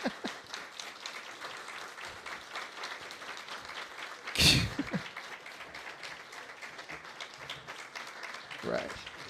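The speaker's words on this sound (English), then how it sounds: "Give her a round of applause." A crowd applauds steadily at an awards gala, dense clapping filling the room throughout, with a sharp loud clap or bump near the middle and scattered voices under it.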